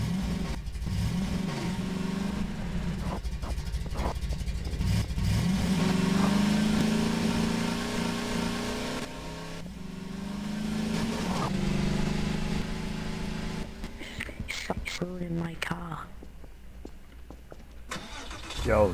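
A Nissan Skyline's engine in a video game runs close up, starting and revving in rising and falling surges with idling between, and a brief voice near the end.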